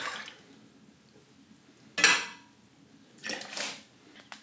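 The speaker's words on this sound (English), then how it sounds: "Mix your rose petals together with some syrup." A utensil clinks and scrapes in a bowl as rose petals are mixed with syrup for a vegan rose spread, in a few short, close bursts separated by quiet stretches.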